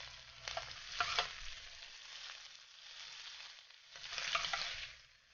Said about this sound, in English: Pan fry the shrimp until they turn colors.